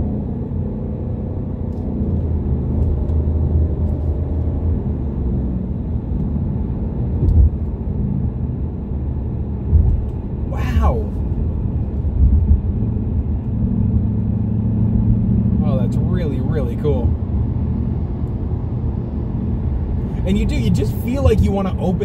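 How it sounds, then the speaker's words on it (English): Low, steady engine rumble from a 2020 Ford Mustang GT Premium's 5-liter V8, running continuously through the clip with a couple of faint higher bursts partway through, no words spoken over it. "And this is the 5-liter V8."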